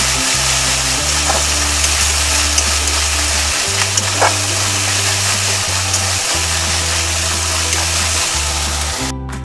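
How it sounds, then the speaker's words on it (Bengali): A paste of ginger, garlic, onion and tomato sizzles steadily in a hot pan, a continuous close frying hiss with occasional scraping stirs and a low background hum, no talking. "পুরো পেস্টটা আমি এবার কষিয়ে নেব"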